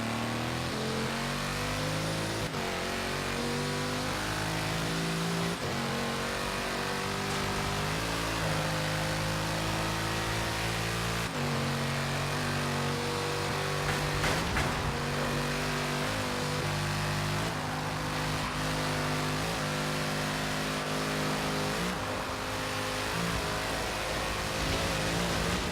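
A modern supercar engine drives steadily in Forza Horizon 3, holding a continuous mid-pitched drone with recurring rises and falls as it revs and shifts, loud and alone with no talking.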